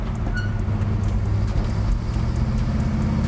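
1967 Chevelle with a 454 V8 and manual clutch pulling along a city street, a steady low engine drone heard from inside the car, fairly subdued and without talk.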